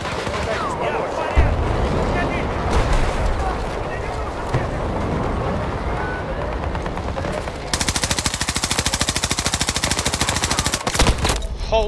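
AK rifle fire in a first-person shooter game: rapid dense automatic bursts, then a long sustained stream of evenly spaced shots near the end, over busy battlefield noise, voices and wind.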